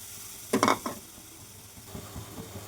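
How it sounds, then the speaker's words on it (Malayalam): Ginger and coconut paste is sautéed in coconut oil in a pan for ginger pachadi. A short burst of sizzling and stirring is followed by quieter, faint frying. "ഇതൊന്ന് നന്നായിട്ട് വഴട്ടിയെടുക്കണം"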